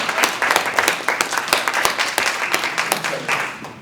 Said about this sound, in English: clap it up for Mark Dan.